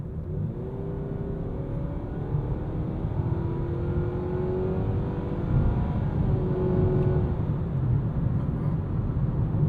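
Steady cabin drone of a 2026 Nissan Sentra SR as it accelerates on kickdown, its engine note slowly rising and holding at a sustained whine with road rumble underneath.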